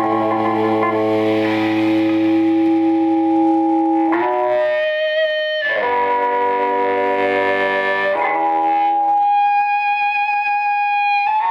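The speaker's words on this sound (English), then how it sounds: "if you turn it up even just a little bit, it catches reverb really easily" Electric guitar played through a McCarrey Reverberocket amp, sustained chords and single notes ringing out with heavy spring reverb tails and echo, several distinct held phrases in sequence, loud and alone.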